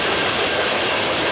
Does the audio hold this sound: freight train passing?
yes